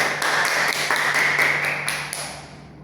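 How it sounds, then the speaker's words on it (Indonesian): Classmates in a classroom give a round of applause, a steady patter of hand claps filling the room at moderate loudness and tapering off toward the end. "Kita beri tepuk tangan lagi untuk teman kita"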